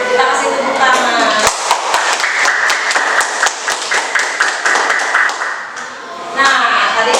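Children clap together in a classroom, a dense burst of hand claps with sharp individual slaps poking out, lasting several seconds before briefly dipping and resuming, with voices mixed in.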